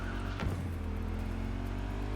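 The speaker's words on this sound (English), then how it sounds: "Slow revs." A car engine revving slowly in the video game Cyberpunk 2077, a steady low drone with a brief whoosh early on, loud and continuous with no talk.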